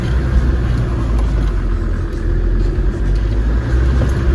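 A Land Rover Discovery TD5 diesel engine rumbles off-road over a log, given a little gas so its low growl swells steadily and close for a few seconds, with no talking.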